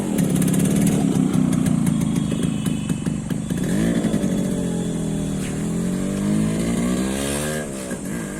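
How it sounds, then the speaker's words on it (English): A rebuilt Yamaha RX 100 motorcycle roars loudly nearby, its engine note swelling and then sweeping down in pitch as the bike rides past, with no voices over it. "So we are going to hear the bike, how it sounds, and the flyby."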